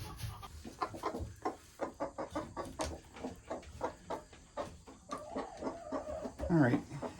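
A broody hen in a nest box gives a steady series of low, rhythmic clucks close by, with a louder burst of agitated clucking near the end.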